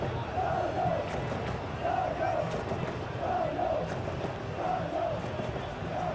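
Stadium crowd in a PES 2021 football video game match between Rayo Vallecano and Girona, a continuous broad roar with rhythmic chanting swells repeating through the stretch, fairly loud and steady throughout.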